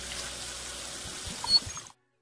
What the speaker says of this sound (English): We always begin by washing our hands.